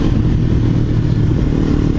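A motorcycle with a full exhaust rides at low RPM in California, its deep, steady engine rumble loud and close with a slight clattering texture and no voices.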